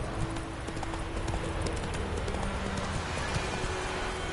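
Roach, the horse in the video game The Witcher 3, gallops along a road in a fast, dense run of hoofbeats, steady and close over a constant rushing background.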